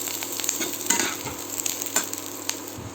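Soybean chilli ingredients being sautéed in a pan, with a steady close sizzle and frying hiss broken by repeated scraping stirs across about three seconds; no voices.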